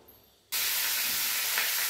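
Chicken pieces dropped into hot oil set off a sudden loud, broad hiss of sizzling that bursts in after a quiet half second and holds steady and close until the end.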